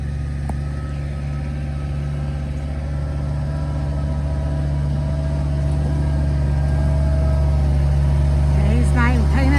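A tractor engine runs steadily at a driveway repair on red clay, a close, constant low drone that builds slightly louder toward the end, with a voice heard briefly.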